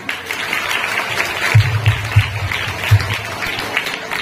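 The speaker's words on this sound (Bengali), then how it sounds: "তোমাদের একটা হাততালি আমি দিচ্ছি" Students at a school event applaud together, a sustained wave of clapping with a few sharper, louder claps standing out as it goes on.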